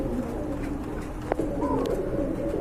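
A pair of blue Rajgolla pigeons coo softly and repeatedly, close up, over a steady low background hum.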